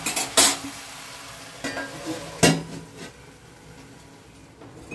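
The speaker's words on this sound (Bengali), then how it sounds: "এবার 1 চামচ লবণ এতে দিয়ে দিচ্ছি। এটাকে একটু নেড়ে চেড়ে দিয়ে" Bengal arum leaves and stalks are stirred with salt in a pan, giving a few sharp scrapes and knocks of a spoon against metal over a faint sizzle, close and then fading to a quiet simmer, with no talking.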